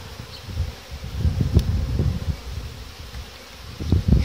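A dense, steady buzz of many honeybees close up at an open hive during frame inspection, swelling and fading slightly, with some soft rustling and no talking.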